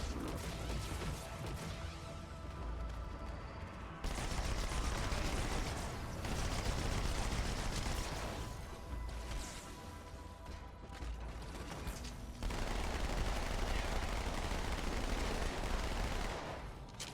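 Repeated automatic gunfire from Flood enemies in the Halo 2 game, with mechanical clatter, coming in sustained bursts separated by brief lulls over a steady game soundscape.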